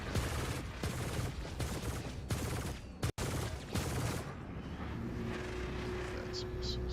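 Missiles firing in the space game Star Citizen, a run of loud, sharp bursts over a roaring engine drone, with a sudden silent gap and then a steadier, thinner hum afterward.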